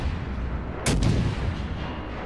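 A single heavy boom of naval gunfire from the IJN Yubari cruiser in World of Warships, a sharp blast with a rumbling tail over a steady low engine drone.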